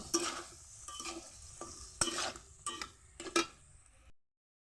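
Ridge gourd and potato curry with salt and turmeric being stirred in a pan, a handful of scraping strokes against the metal with soft frying sizzle underneath, close and fairly quiet, ending in silence.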